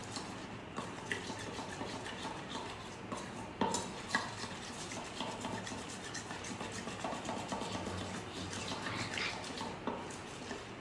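Melted chocolate stirred with sunflower oil in a bowl, producing continuous close scraping and clinking of a utensil against the dish, with irregular taps and louder knocks throughout, no speech.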